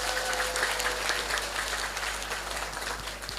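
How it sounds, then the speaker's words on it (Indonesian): Audience applause at an Islamic boarding school religious gathering in Cilongok, Banyumas, a sustained burst of crowd clapping, fairly loud and even, with a faint steady hum underneath. "tepuk tangan sepina malih"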